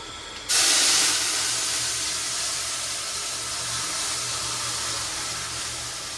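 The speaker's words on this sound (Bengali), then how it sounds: "দেখো ডাল ফোড়ন দিয়েছি, পুরো ধোঁয়াটা ঘরের মধ্যেই রয়ে গেল" Spices hit hot oil to temper dal in a home kitchen, and a sudden loud hiss bursts out, then settles into a steady, close sizzle that runs to the end.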